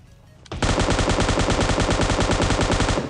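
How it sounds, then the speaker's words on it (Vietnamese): Automatic weapon fire in PUBG Mobile on the Sanhok map, a sudden loud sustained burst of rapid evenly spaced shots starting after a short quiet moment and running nearly three seconds. "Nghe tiếng bắn có vẻ như là bot thì phải."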